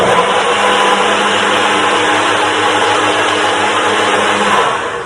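A blender whizzes up a simple banana smoothie at a live cooking session, a loud, steady, close motor whir with a broad grinding roar that holds for about five seconds before winding down, with no talking.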